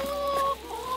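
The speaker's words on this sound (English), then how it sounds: "Goodbye, my little chickens." Chickens cluck and chatter close by in a short burst of overlapping calls, one bird's voice rising above the rest.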